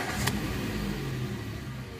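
A Peugeot engine idles smoothly after repair of water in the injection ECU wiring harness, giving a steady, even low hum that carries faint mechanical ticking and stays fairly quiet throughout.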